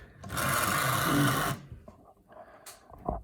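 A small model diesel locomotive motor, a vintage Tri-ang or Airfix Class 31, whirs loudly for about a second and a half, then cuts out, leaving faint clicks and rattles.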